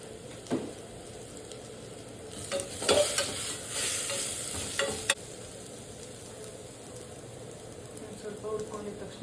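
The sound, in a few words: frying spices and masala for mushroom biryani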